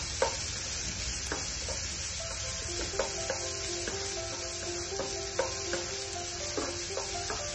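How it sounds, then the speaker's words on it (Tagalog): Garlic added to ginger and onions sautéing in a pan for chicken pochero, a soft continuous sizzle with repeated scraping and clinking of a utensil stirring against the pan, fairly quiet and close, no talking. "Next ko na yung ating garlic. So, sasama natin yan dyan sa paggisa sa ating ginger and onions."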